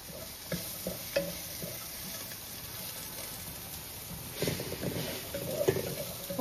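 Spices tempering in hot oil in a home kitchen while flatbreads are cooked, giving a steady low sizzle with a few sharper crackles and pops near the start and end, no talking.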